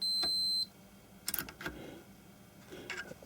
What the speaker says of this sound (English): So we're expecting a bleep from the meter in this direction.